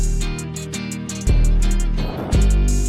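A hyperpop glitchcore beat thumps with deep booming 808 hits and ticking hi-hats over a droning loop, loud and close, the bass swelling in two heavy bursts.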